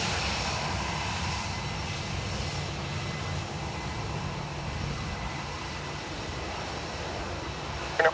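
An aircraft engine roars steadily at Dublin Airport, a broad, constant drone that holds at the same level throughout with no voices over it.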